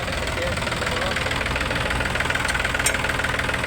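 A tractor engine near Hingolgadh runs on a rough rural road, a loud, steady chugging and knocking rhythm that continues without a break.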